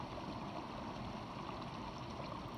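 A creek lined with wildflowers in a mountain meadow flows steadily, giving an even, unbroken rushing wash of water that stays moderately close throughout.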